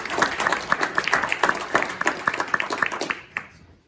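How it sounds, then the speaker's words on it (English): An audience claps in applause for the VFW veterans' organization on its 80th anniversary, a dense steady round of clapping that fades out near the end, with a few voices mixed in. "can we get a round of applause for the VFW?"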